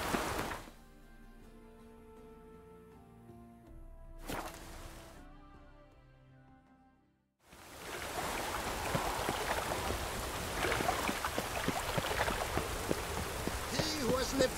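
Rain in The Witcher 3: Wild Hunt, a steady dense patter that comes in after a quieter stretch and keeps going at an even level, with a brief burst of sound earlier and soft talk before it.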